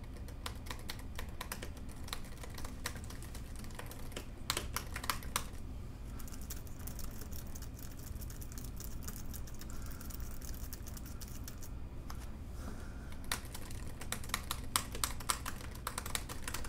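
Fast, clattery typing on a 2017 MacBook Pro metal switch keyboard, sharp crisp keystrokes in quick bursts with brief pauses, loud and close, no talking.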